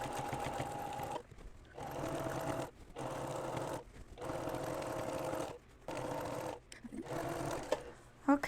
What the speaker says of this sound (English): so now I'm just going to stitch all the way to the end.